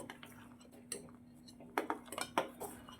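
Sago pearls boiling in a pot are stirred with a metal spoon, giving soft scattered clinks and scrapes against the pot over a quiet low hum, with a few sharper taps near the end.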